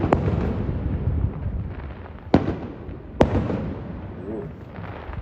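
Fireworks bursting over Lake Biwa at Otsu in spring, heard as a continuous distant rumble and crackle with two sharp, loud booms standing out partway through.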